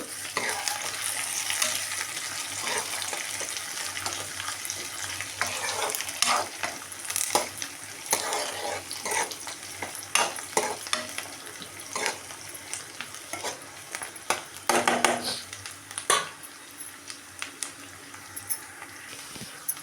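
Onions and curry leaves fry in a pan, a continuous sizzle broken by repeated scraping strokes of a spoon or spatula, with a louder clattering stir near the middle.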